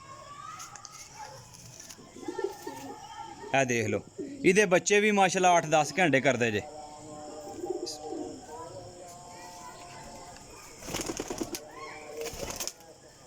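Breeder pigeons kept as pairs for sale coo in soft, repeated phrases close by, mixed with someone talking over them.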